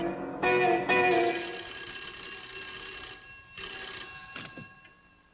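An old-fashioned telephone bell rings in a few sharp bursts with a lingering metallic hum, fading toward the end, in a horror film set at an inn.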